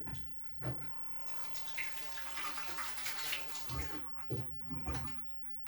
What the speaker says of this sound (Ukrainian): Мию руки.